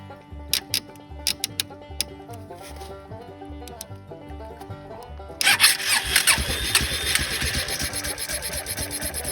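A 1994 Kawasaki Bayou 400B ATV, with its carburetor bowl filled with gas and its battery boosted, cranks with rhythmic clicking turns and then catches, roaring loudly into a steady running idle midway through.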